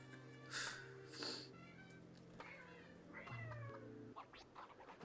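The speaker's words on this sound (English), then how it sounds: "And there's my kitties asking Brie for food now that she is awake" Several house cats meow for food in a room, giving a few drawn-out, plaintive cries with small snorts between them. They sound fairly faint in the background.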